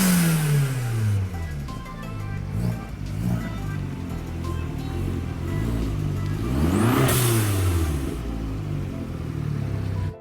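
A boosted Italian car's engine revs and pulls continuously while driving, its pitch sweeping up and down through gear changes, loud and close with road rush underneath.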